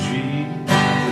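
Two strummed acoustic guitar chords in open position, G then C, the second struck brighter and louder about halfway through, both ringing on briefly.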